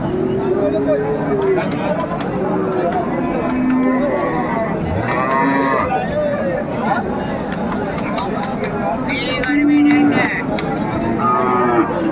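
Bulls moo repeatedly at a cattle market in Chittagong, Bangladesh, several loud, drawn-out lowing calls over a busy crowd of chattering voices nearby.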